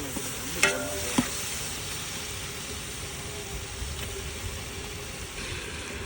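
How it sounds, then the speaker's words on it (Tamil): Chicken goes into sautéed onions for biryani, cooked outdoors. It makes a steady loud sizzle and frying hiss throughout, with a couple of sharp clanks of a utensil against the pan near the start. "இப்ப சிக்கன் போடுறோம்."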